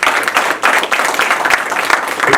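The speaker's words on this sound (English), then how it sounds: "Give yourselves a round of applause." Lecture audience at Everlasting Life breaking into a loud, dense round of applause, many hands clapping close by in a continuous burst with faint voices mixed in.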